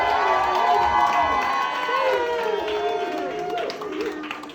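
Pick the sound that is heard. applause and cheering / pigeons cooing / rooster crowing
applause and cheering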